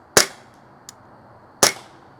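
A toy gun fires twice when its trigger is pulled: two sharp, loud, close snaps about a second and a half apart, with a faint click between them.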